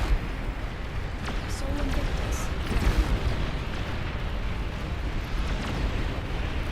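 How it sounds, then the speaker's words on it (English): Long-range plasma cannon shells from the real-time strategy game Beyond All Reason land in a busy battle, a steady rumble of heavy blasts and booms under ongoing speech and game chatter. "Long-range plasma cannon targeting your units."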